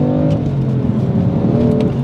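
A BMW M3 F80 with an unusual exhaust setup pulls hard, its engine note a loud, steady, rising drone heard from inside the car, with no speech.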